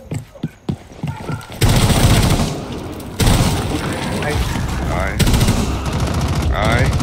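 Rainbow Six Siege gunfire: a few sharp separate shots open, then dense automatic bursts blaze for several seconds at a time with brief pauses, loud and close, with voices talking faintly underneath.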